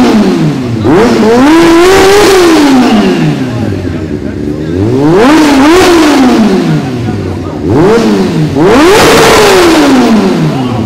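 A new motorcycle's engine is revved hard three times at a wedding gathering, each rev sweeping up to a loud roar and falling back to idle, very close, with people talking around it.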